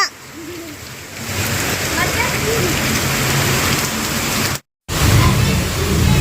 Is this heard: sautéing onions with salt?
no